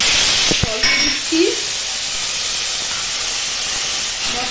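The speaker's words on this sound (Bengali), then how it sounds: "দিয়ে দিচ্ছি তেলের মধ্যে তেজপাতা, দিয়ে দিচ্ছি আধা চামচ জিরা, মশলাটা দিয়ে দিচ্ছি" Bay leaf, half a spoon of cumin and spices hit hot oil in a pan, giving a loud, steady hissing sizzle with a few early pops, and a voice briefly speaks at the start.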